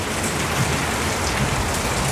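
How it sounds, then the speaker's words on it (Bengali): Heavy rain pours steadily on a rural homestead, a dense, continuous hiss of drops drumming close by on surfaces, with no voices. "জোরে বৃষ্টি হচ্ছে"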